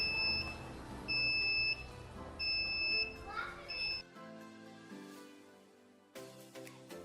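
Low gas pressure alarm on a Suryatech Commander 800 space heater sounds in repeated loud electronic beeps, four evenly spaced pulses over background hum and children's voices, then the room goes quieter.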